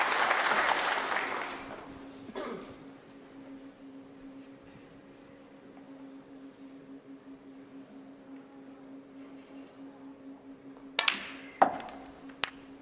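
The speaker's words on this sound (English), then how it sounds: "A little round of applause" Snooker spectators give a brief round of applause during a World Open semi-final between Judd Trump and Jackson Page. The clapping is loudest at the start and fades quickly into a quiet hall with a low hum, and a few sharp ball clicks come later.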